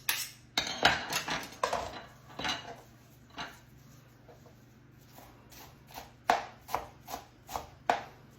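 Fresh parsley is chopped finely with a knife on a cutting board, a run of sharp, close, irregular blade taps that pause midway and then return as a steady rhythmic series, with no talk.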